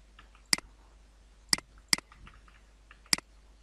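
A handful of sharp, isolated keypresses on a computer keyboard as a password is entered, four crisp clicks spaced unevenly over a few seconds against a quiet background, with no talking.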